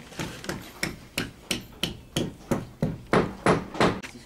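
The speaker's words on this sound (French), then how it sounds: "non, un marteau." Hammer blows land on a workpiece in a steady series of about a dozen sharp, evenly spaced strikes, close and fairly loud, with no talking.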